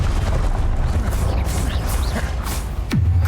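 A spell cast in Hogwarts Legacy, the Expelliarmus disarming charm, rings out over a dense, loud wash of game effects and background rumble, finishing with a sharp downward-sweeping zap near the end.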